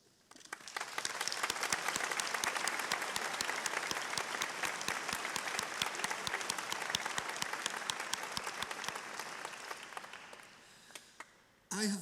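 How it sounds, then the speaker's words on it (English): A large audience at a university graduation ceremony breaks into sustained applause that swells quickly, holds steady for several seconds, then thins out to a few scattered claps. "give a round of applause to all of those who have"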